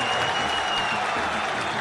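Stadium crowd at a Copa Sul-Americana football match, Santos versus Deportivo Cuenca, applauding a player: a dense, steady wash of clapping and crowd roar, loud and continuous throughout.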